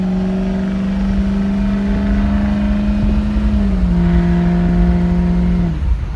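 A 6.0 Powerstroke diesel truck accelerates at half throttle, its loud, steady engine drone rising and then dropping in pitch as it shifts, sustained close by with no talking.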